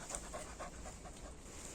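A dog panting rapidly and rhythmically outdoors on a walk, close and fairly soft, a steady quick breathy pattern with no speech.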